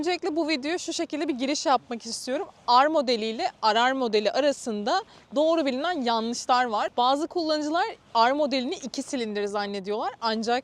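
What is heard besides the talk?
None of the usual background noises is heard.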